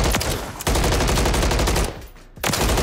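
An MCW rifle fires in a video game as two loud, rapid bursts of automatic gunfire, separated by a brief pause.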